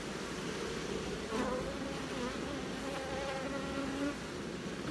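Honeybees buzzing steadily around the emerging brood nest of an open hive, a dense, continuous close-up drone with a few louder individual bees passing near the ear.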